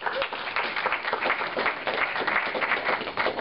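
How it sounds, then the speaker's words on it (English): An audience at an opening-reception bout at South Side Innovation Center applauds in a dense, steady burst of clapping that carries on throughout. "Big round of applause to Jonathan Cantrell and Abigail."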